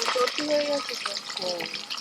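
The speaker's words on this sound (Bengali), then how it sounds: "মাছটা যত ভাজা হচ্ছে কত তেল বেরোচ্ছে দেখো" Large silver carp sizzles and crackles in hot oil, a bright frying hiss close by, with a few faint tonal clinks and background voices.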